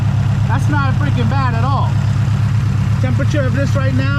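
A turbocharged 2018 Subaru WRX STI, tuned to 840 wheel horsepower, idles with a steady low rumble while someone talks over it close by.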